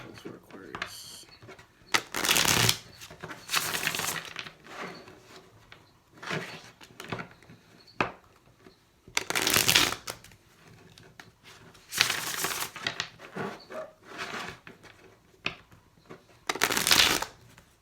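A tarot deck shuffled close by in several loud bursts of riffling card noise, separated by short quieter gaps.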